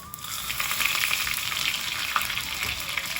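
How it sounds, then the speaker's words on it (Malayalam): Fenugreek seeds, dried red chillies and curry leaves sizzle steadily in hot oil for a tempering, a bright continuous crackle held close and fairly loud with no talking. "ഉലുവ ഇട്ടു. ഉണക്കമുളക് ഇടുന്നു. നമ്മുടെ സ്വന്തം കറിവേപ്പില ഇടുന്നുണ്ട്."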